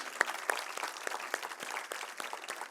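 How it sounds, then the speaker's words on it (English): Scattered clapping from a modest audience at a 2024 commencement lecture for the Jindal School of Liberal Arts & Humanities, fairly quiet and thin, with individual claps audible rather than a dense roar. "he deserves a big applause"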